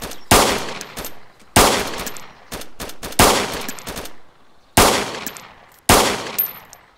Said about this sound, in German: Er schießt! Schießt auf dich!